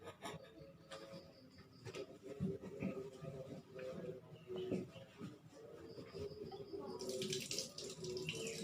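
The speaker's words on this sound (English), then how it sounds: "And after that, wash your hand." Hands are washed with soap under a running tap, with a quiet, steady wash of water and soft rubbing sounds throughout, and faint voices in the background.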